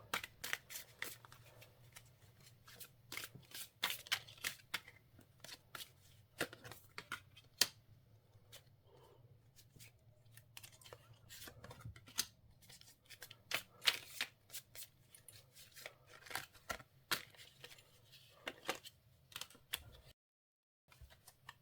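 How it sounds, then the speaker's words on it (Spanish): Tarot cards shuffled and handled for a reading, a steady run of crisp riffling flicks and shuffles close by, with short pauses and no speech. "va a ser muy rápida la selección de las cartas"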